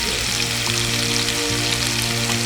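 Chicken pieces for butter chicken frying in hot oil, a steady dense crackling sizzle that runs unbroken and fairly loud, with a low constant hum underneath and no voices.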